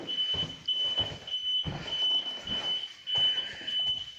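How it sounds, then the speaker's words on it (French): A steady, high-pitched alarm tone drones without a break inside an abandoned hotel that opened in 1974, sounding over nearby footsteps, shuffling and small knocks. "Pourquoi il y a une alarme ici?"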